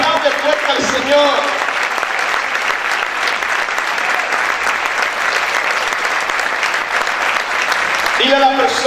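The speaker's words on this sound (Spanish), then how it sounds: "Aplaude fuerte al Señor." Church congregation applauding loudly during a Spanish-language sermon, a dense sustained wash of clapping that fills the whole stretch, with a voice briefly audible at the start and end.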